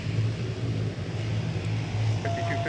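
An ATR turboprop airplane at MSP airport gives a steady loud droning engine hum with a low tonal buzz that holds throughout, and a higher whine joins near the end.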